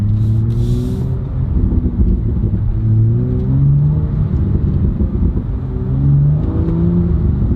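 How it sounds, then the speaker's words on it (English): A flash-tuned BMW M2 accelerating hard through its gears, the engine note climbing in pitch, dropping at each shift, then rising again, loud and close with a steady droning tone and no talk. "I want to see that turbo jerkiness with the gearbox."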